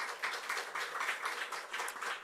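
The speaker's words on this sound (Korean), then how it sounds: "박수로 한번 환영하겠습니다" A church congregation claps during a Sunday worship service to welcome visiting young members from another church, producing a faint, steady wash of applause that lasts throughout.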